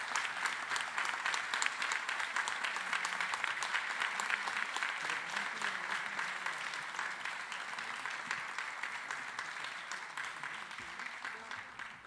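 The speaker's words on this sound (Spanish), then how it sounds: "Y yo les quiero pedir un fuerte aplauso también por la colaboración que han hecho con nosotros esta noche" An audience at the 50th anniversary celebration of Los Cebolleros de Gáldar gives a long, sustained round of applause, a dense, steady clapping that stays even for several seconds and thins slightly toward the end.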